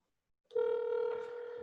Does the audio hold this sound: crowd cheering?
no